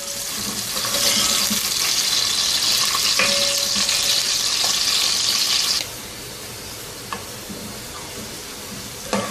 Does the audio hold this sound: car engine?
no